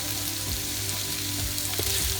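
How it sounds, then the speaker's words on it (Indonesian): Spice paste for goat curry sautéing in oil in a pan, a steady close sizzle with occasional soft stirring scrapes, no voices. "Jadi kita tumis hingga minyak dari bumbu ini keluar ya."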